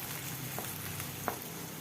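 Onions frying in oil in a basin until brownish: a steady, faint sizzle throughout with a couple of soft clinks, no voices.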